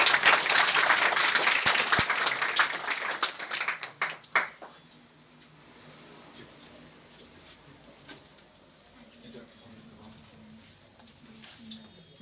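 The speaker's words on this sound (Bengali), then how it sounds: "সবাই মিলে হাততালি।" An audience claps together in a burst of loud, dense applause that fades after a few seconds into quiet room noise with scattered faint sounds.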